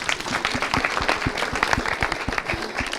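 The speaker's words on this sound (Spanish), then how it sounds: "Aplausos para Romeo." A group applauds, dense steady clapping from a modest crowd throughout, fairly close and lively.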